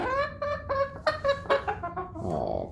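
A young chicken clucks in a run of short, close, evenly spaced calls, a couple of them rising into a longer squawk near the end.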